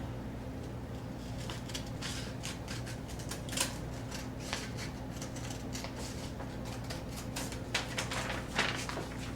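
A leather piece for a jackware canteen being cut out: a steady run of crisp snipping and slicing strokes close by, with a few sharper cuts standing out over a low constant hum.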